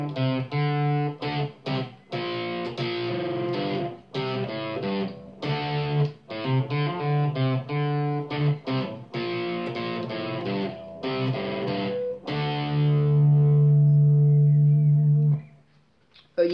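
Guitar plays an intro riff, a quick run of distorted single notes and chord stabs in bursts, ending on a long sustained ringing note; loud and close with no talk.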